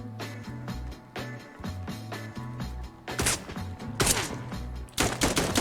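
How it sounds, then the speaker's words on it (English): Gunfire in a tactical shooter video game, with bursts of shots and sharp blasts over a steady rhythmic game soundtrack, growing louder and denser toward the end. "I'm literally just freaking dodging gunshots by circle strafing them."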